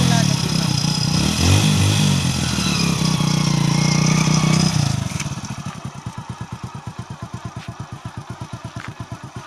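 A motorcycle engine runs under people talking, then idles alone with a steady, rapid putter close by.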